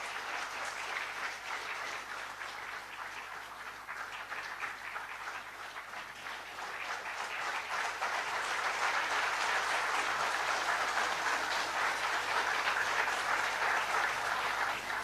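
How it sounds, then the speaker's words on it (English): A large audience applauding at an anniversary foundation day ceremony, sustained, even clapping that builds slightly louder partway through and carries on steadily with a low constant hum beneath. "a big round of applause"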